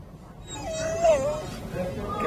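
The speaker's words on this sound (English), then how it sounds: "here we go with the barking" A dog whimpers and yips in a high, wavering whine over background noise and soft voices, one louder cry standing out in the middle.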